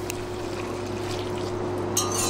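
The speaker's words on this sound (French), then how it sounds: "dès qu'elle commence à bouillir, on va mettre dans le chocolat" Boiling cream poured onto chocolate, a steady liquid pour heard close over a constant hum, ending with a brief splashy flourish and no talking.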